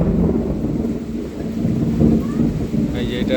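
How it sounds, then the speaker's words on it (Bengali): Thunder rumbles through steady heavy rain on a late afternoon downpour near a papaya orchard, a continuous low roar of rainfall with a deeper swell of thunder midway, no talking heard. "এই যে এটা বজ্রপাতের শব্দ ছিল"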